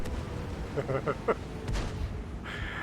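An American T29 heavy tank's cannon fires a single booming shot in the World of Tanks game, heard once amid battle ambience while a voice speaks briefly just before it.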